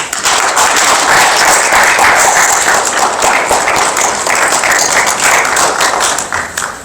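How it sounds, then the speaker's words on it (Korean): An audience at an award ceremony applauds a prize recipient about to give remarks, producing loud, close, continuous clapping that stays thick and steady throughout. "뜨거운 박수 부탁드리겠습니다."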